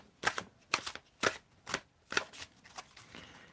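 Tarot cards being shuffled by hand in about seven separate riffling bursts spaced roughly half a second apart, close and crisp with no voices.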